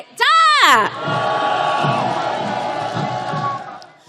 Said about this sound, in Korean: 힘찬 탄핵의 함성 한 번 더 질러보겠습니다.